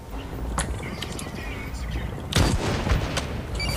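Gunshots crack through a Blacklight: Retribution firefight, scattered single shots early and then a louder burst of rapid fire, with a game voice briefly heard under the shooting.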